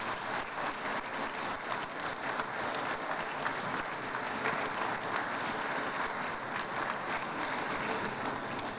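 A large audience at a world meeting of Hungarian mayors claps after the mayor's speech, dense sustained applause filling the room evenly and loudly throughout.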